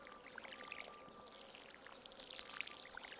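Watering can pouring water over crops in the Stardew Valley farming game, a soft steady trickling splash running throughout at low level with no voices.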